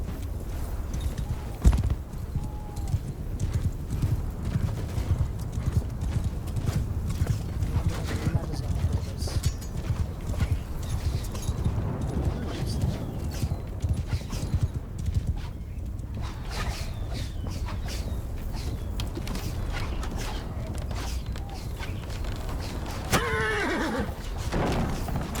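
In a Roman campaign of the medieval strategy game In The Name of Jerusalem II, horses' hooves clip-clop steadily while horses neigh now and then, under ongoing talk with a loud neigh near the end.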